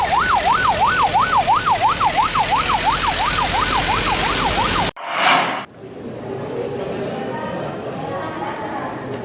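An ambulance siren wails loudly in a fast, steady rising and falling pattern for several seconds, then cuts off abruptly, leaving a brief burst and quieter background noise.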